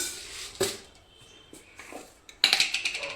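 A metal pan is picked up and set down in a kitchen before roasting fenugreek seeds for amla pickle: a few sharp clanks and knocks, then a quick run of ringing metallic taps near the end.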